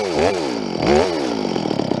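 A chainsaw cutting a tree revs up and down twice nearby, its engine whining loudly, then settles into a steady sputtering idle.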